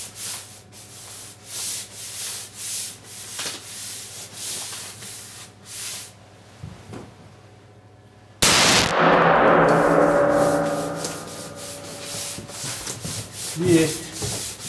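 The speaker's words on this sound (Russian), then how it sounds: "Стреляю с дробью тройка, вот из Кайман Дискури." A Kaiman Discovery shotgun fires No. 3 shot at a paper target: one sharp, loud blast about midway with a ringing tail, preceded by quieter rubbing and handling noises.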